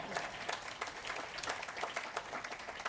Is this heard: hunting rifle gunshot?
no